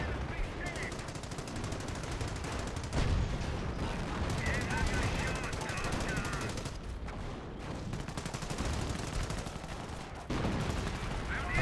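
An artillery barrage in Company of Heroes 1 rumbles on as a dense, continuous stream of gunfire and blasts, steady and moderately loud throughout the battle, with no voices.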